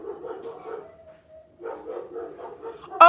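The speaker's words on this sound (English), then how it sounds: "y'all hear that dog?" A dog barks in short bursts of yips and bow-wows, moderately near, pausing briefly in the middle before a second run of barking and a sharp louder yelp at the end.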